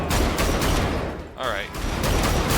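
Rapid shotgun blasts and fusillade-like gunfire from Wolfenstein: The Old Blood, loud and dense, briefly dipping before resuming, with a man's short remark over it.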